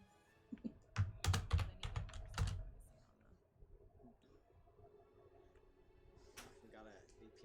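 Quick bursts of clacky computer keyboard typing up close, a cluster of sharp keystrokes early on, then quieter scattered taps under low talking.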